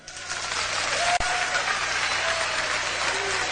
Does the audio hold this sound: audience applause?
yes